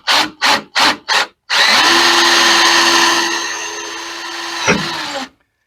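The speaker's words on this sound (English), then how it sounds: "And that's how we're going to drill, right?" A power drill bores into a stiff Jeep tailgate hinge pin, opening with four short trigger bursts and then one long loud continuous whine that dips in pitch under load before stopping, with no talking.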